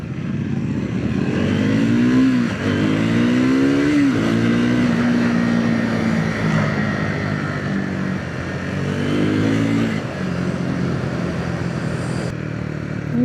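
A Triumph 400X Scrambler motorcycle ridden through city streets, its single-cylinder engine droning steadily and rising in pitch through several throttle pulls and gear changes, close and continuous throughout.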